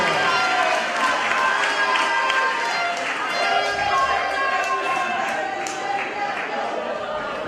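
An audience at a Nevis event gives a round of applause and cheers for Patrice, dense clapping mixed with crowd noise and voices, steady and loud throughout.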